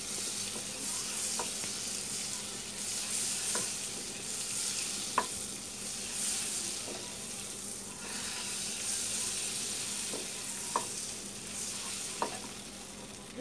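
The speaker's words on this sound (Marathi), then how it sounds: "आता आपला पॅन गरम झाले, मी बटर टाकले।" Butter melts in a hot pan for tawa pulao, giving a steady soft sizzle with a few faint clinks from a utensil, heard alone with no talk.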